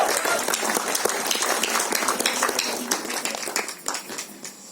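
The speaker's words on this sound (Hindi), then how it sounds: "जोरदार तालियां ladies and gentlemen।" Dense applause from an audience at a film trailer launch press meet, steady crisp clapping for several seconds, with a little chatter mixed in.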